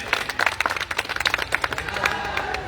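An audience claps in welcome for a visiting minister at a public event, a dense patter of many hands at moderate distance, with a few voices and cheers mixed in.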